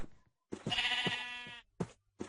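Sheep in the video game Minecraft give a long wavering bleat, followed by shorter clipped bleats and soft thuds, close and clear with no speech.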